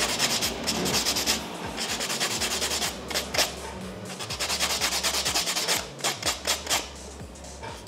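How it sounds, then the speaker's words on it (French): A pumice block is rubbed briskly over a fingernail surface, making loud, close, rhythmic scratchy strokes that come in quick repeated bursts. "je prends un bloc ponce et je viens griffer mon ongle"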